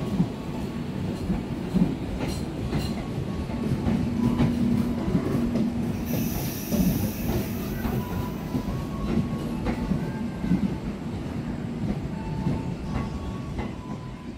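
The Gumarang passenger train on the Jakarta–Surabaya route pulls out of a busy Jakarta station, its rumbling wheels and clacking joints building, with a brief high squeal partway through and no voices.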